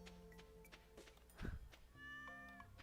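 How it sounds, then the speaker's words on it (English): A cat meows in the farming video game Stardew Valley, one short, soft meow standing out over gentle background game music and light chimes. "Oh, there's our cat."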